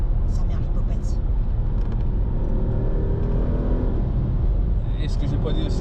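Audi RS6 C7 quattro engine pulling hard through the gears on a winter road, a loud steady low rumble with rising tones heard from inside the car, with people talking over it.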